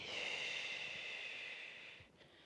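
A long, gentle exhalation during a soft exercise class for adults and seniors, a steady airy breath out lasting about two seconds before fading, close and quiet with no talking.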